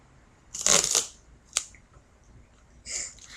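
Duct tape rips off the roll in a sharp, crackly burst, followed by a quick short snap and a softer final tear, close and fairly loud with no talking.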